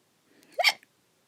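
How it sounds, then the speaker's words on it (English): A single sharp hiccup from a person studying at a desk pops out of near silence, preceded by faint soft breathing sounds and followed by a small click. "Sorry, I still have hiccups."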